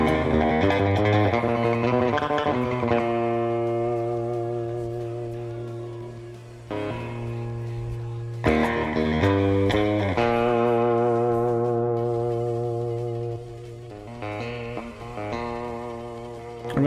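Surf-style electric guitar runs through an amp simulator with spring reverb, playing bright twangy phrases with splashy echo tails; loud and continuous, with a brief dip near the middle.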